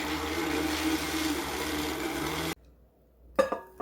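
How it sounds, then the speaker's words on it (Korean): Blender grinding salt, sesame and soy milk, a loud steady whirring drone for about two and a half seconds that cuts off abruptly, followed by a few clattering knocks. "부드럽게 갈아주세요"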